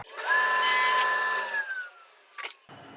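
Power tool cutting dados in wood stock for a cherry tape loom, a steady close whine of the blade running through the wood for about a second and a half, then spinning down, followed by a brief clack.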